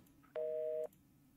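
A single electronic telephone busy tone from the video game Scene Investigators, a steady buzzing beep lasting about half a second, clear but fairly quiet against a low background hum.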